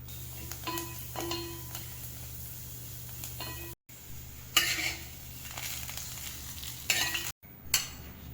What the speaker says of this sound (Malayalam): ഒരു പാത്രത്തിൽ അല്പം നെയ്യൊഴിച്ച് 1/2 കപ്പ് ചെറുപയർ പരിപ്പിട്ട് വറുത്തെടുക്കുക